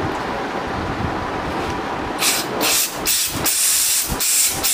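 Compressed air blasts through the air filter of a Yamaha FZS Fi motorcycle during servicing, with a steady background hiss followed by several loud, short bursts of rushing air.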